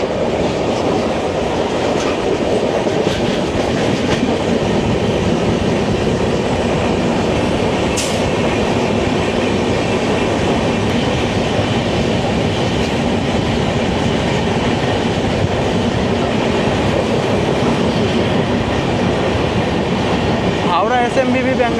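The Howrah to Digha Tamralipta Express rumbles loudly along the rails in a steady, unbroken roar with rhythmic clatter of wheels over joints and a brief metallic squeal near the end.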